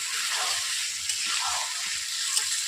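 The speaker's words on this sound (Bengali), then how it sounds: "অল্পভাবে আঁচ দিয়ে আমি মাংসটাকে কষিয়ে নিচ্ছি।" Chicken curry meat sautés with spices in a pan on low heat, giving a steady, even sizzle and frying hiss throughout, close and continuous with no talk.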